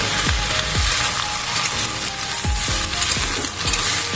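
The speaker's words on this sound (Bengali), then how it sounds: "এখন সমস্ত সবজিগুলো দিয়ে দেবো। সবজিগুলো দিয়ে ভালো করে ভেজে নেব।" Vegetables are fried in a pan with onions for a traditional Bengali fish curry with small fish. A loud, close sizzle runs throughout, broken by several sharp clattering stirs and scrapes of a utensil against the pan.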